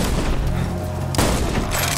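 A shotgun firing in the VR shooter Borderlands 2 VR, two heavy booming blasts close up, the second sharper, over loud game background noise.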